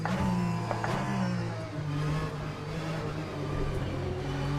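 A race car engine in Le Mans Ultimate holds a steady high rev, a close, continuous motor whine that shifts slightly in pitch and runs alone without speech.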